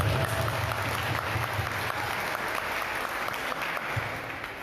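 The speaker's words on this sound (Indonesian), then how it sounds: "Tepuk tangan dulu." Steady applause from a seminar audience at a university student orientation fills the whole stretch, a dense wash of clapping with no pauses and no voices standing out.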